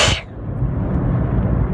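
A single loud sneeze from a driver inside a moving car, a sharp burst at the start followed by the steady low rumble of the car's engine and road noise.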